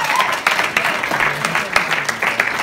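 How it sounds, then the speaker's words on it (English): A round of applause from a modest crowd, scattered claps over a busy room murmur, with a few louder sharp claps standing out and voices mixed in. "Round of applause."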